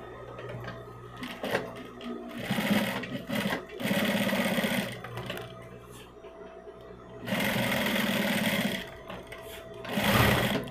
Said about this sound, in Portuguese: Eu nunca costuro isso aqui sem reforço, um pedacinho de material.